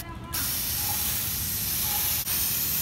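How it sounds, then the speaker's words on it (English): A spray paint can releases a loud, continuous hiss onto a skateboard, starting after a brief pause and keeping going, with one momentary break near the end. "now we are going to spray paint it"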